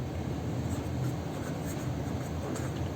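A pen writes numbers on paper while an algebra problem is worked, giving a steady, close scratching that runs through the whole stretch under a broad background hiss.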